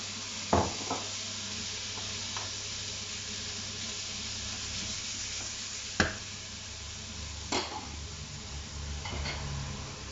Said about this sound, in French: on va laisser cuire un petit peu jusqu'à ce que les oignons soient sués